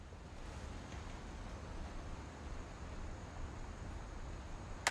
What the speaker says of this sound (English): But 40-foot waves off the coast of Washington send the house and Odin to the bottom of the sea.